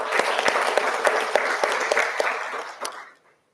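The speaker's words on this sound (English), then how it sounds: "a round of applause once again." Applause from the audience at a ministerial conference on child policy, with individual claps standing out over a steady patter that fades away to silence after about three seconds.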